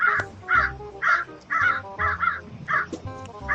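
Crow cawing repeatedly, about eight loud, harsh caws in a steady rhythm, close by and clear over a low background.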